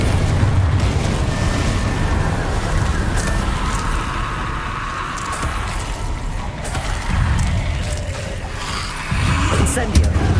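Confringo blasting spells bursting in Hogwarts Legacy combat, a dense, loud run of booming explosions and rumbling impacts layered with crackling debris and mechanical clatter, continuous for the whole stretch with a fresh heavy blast near the end.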